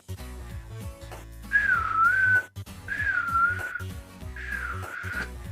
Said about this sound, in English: it was very creepy whistling at the very end there